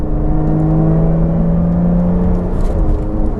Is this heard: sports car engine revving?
yes